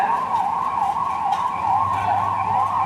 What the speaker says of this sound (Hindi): अभी फर्स्ट एड के लिए एम्बुलेंस आ चुका है